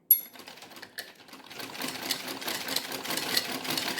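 A sewing machine stitches a blouse lining, starting after a brief pause and settling into a steady, close mechanical whir that continues to the end.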